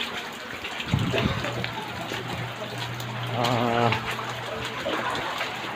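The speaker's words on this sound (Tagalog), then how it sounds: "May isang dangkal pa para makapasok sa amin ang tubig." Continuous rushing of floodwater overflowing a dike in Navotas, moderately loud, with a low hum and a faint voice partway through.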